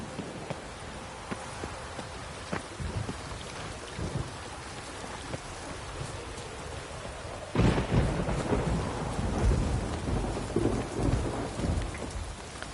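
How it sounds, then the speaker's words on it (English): Heavy rain and rolling thunder from a thunderstorm in the video game The Witcher 3, with steady downpour throughout and a loud, close thunderclap bursting in partway through before the rain rumbles on. "Ooh, heavy thunder. Crazy, it's clapping like that."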